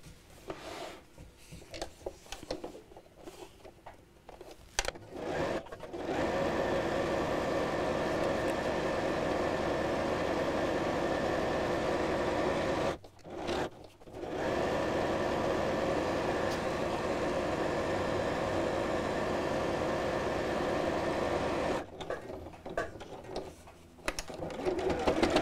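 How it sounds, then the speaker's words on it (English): A sewing machine runs in long steady stretches as it stitches all the way around every side of a piece, with a couple of short pauses between runs and quiet handling noise at the start and end. "So this time I'm going to sew all the way around all sides."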